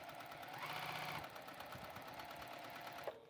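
A Juki sewing machine stitches down the edges of foam, a faint, steady mechanical hum with rapid rhythmic ticking, ending with a small click.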